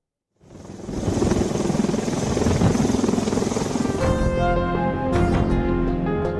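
A rescue helicopter's loud, continuous rotor and engine roar starts abruptly and holds steady, close by, with a rhythmic chopping throb underneath, during flood rescues in Wayanad.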